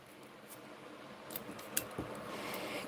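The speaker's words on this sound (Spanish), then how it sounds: "Corto el pedacito de imán." Scissors cut a small piece of flexible magnet strip from a roll while making cookie magnets, giving a few faint, quick snips and light handling rustles in a quiet room.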